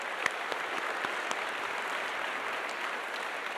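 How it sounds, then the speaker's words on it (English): Auditorium audience applauding at the close of a health and life sciences panel, a steady even wash of many hands clapping with a few sharper individual claps standing out. "So once again, round of applause."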